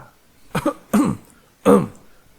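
A person clears their throat in a few short, husky bursts, close by, with quiet pauses between them.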